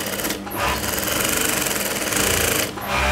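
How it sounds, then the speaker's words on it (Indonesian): A sewing machine runs straight stitching on the lining of a school bag pocket, a loud steady rapid whirring clatter that briefly stops twice before starting again. "kita jahit lurus saja"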